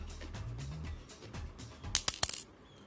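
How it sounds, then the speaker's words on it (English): A fake 1995 Indian 5 rupee coin drops onto a hard surface, giving a few bright metallic rings and bounces after a short rattle. "So here I was dropping this fake coin."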